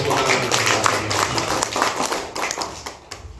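Audience at an education discussion event clapping together, a dense continuous patter of hands, loud and close, tapering slightly toward the end.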